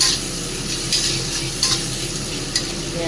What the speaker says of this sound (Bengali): পেঁয়াজটা ভাজতে দেব ততক্ষণ আর পেঁয়াজে না একটু নুন দিয়ে দেবো